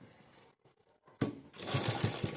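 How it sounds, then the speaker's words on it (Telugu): Sewing machine stitching a straight border onto a blouse's round back neck, opening with a few soft clicks and pauses, then a loud burst of rapid mechanical whirring and rhythmic needle thumps. "ఇట్లా కార్నర్కి నేను కుట్టు వేసేసుకుంటున్నా"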